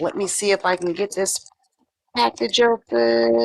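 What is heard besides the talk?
None of the usual background noises is heard.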